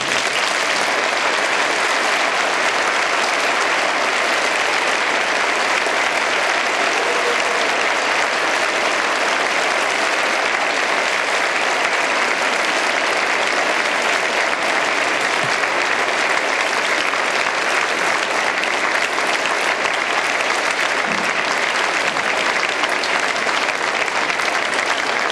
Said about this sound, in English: the audience to receive the applause you deserve